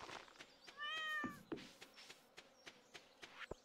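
A pet cat gives a single short, faint meow in a quiet room, followed by sparse soft clicks and taps.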